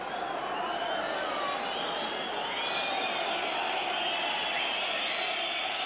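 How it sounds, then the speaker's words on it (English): A football crowd at an English league match whistles together, a sustained shrill wash of many whistles over a dense, constant roar from the terraces, steady and loud from start to finish. "And everybody in the crowd whistling now."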